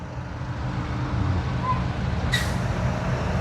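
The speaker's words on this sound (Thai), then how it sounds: "ให้รถไปก่อน" A vehicle rolls past on a road beside a house where a tree is being cut, as a broad rumbling wash with a brief hiss of air brakes midway.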